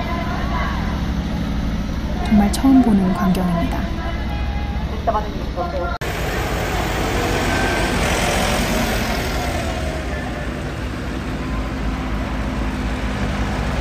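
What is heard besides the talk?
tractors at a farmers' protest in Tokyo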